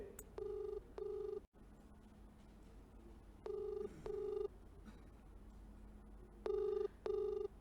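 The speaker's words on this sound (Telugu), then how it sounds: "హేమ ఫోన్ రింగ్ అవుతుంది" An outgoing phone call rings out in paired electronic ring tones, three double bursts at a steady interval over a faint line hiss, with no one talking.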